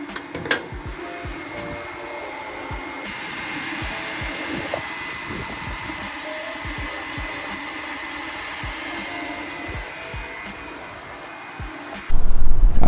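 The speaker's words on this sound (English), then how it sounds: "Sounds like my fans just came on." Interior ventilation fans in a Honda Civic blow air with a steady, even whoosh lasting several seconds, close by, before a sudden louder rush near the end.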